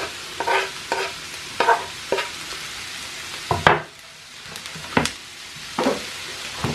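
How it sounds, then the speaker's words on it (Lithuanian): Onions and carrots fry in a hot pan while a spatula stirs them. Loud, close scrapes and clatters come at irregular intervals over a continuous sizzle, with no talking. "Svogūnus apkepam, kol suminkštės, paruduos truputį."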